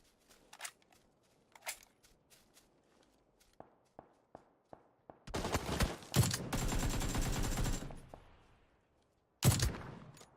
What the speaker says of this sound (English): Great headshot from Falstead onto Acapulco.